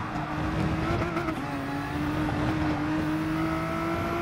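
Race car engine from Gran Turismo Sport, a Porsche GT3 car at Kyoto Yamagiwa, holding a steady high drone with a slowly rising pitch as it powers through corners, loud and continuous with no voices.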